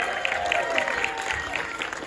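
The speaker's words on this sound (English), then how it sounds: "Big round of applause for your amazing artist," An audience at the Animation Academy in Disney California applauds its artist, a steady patter of many hands clapping close by, with crowd noise and a voice underneath.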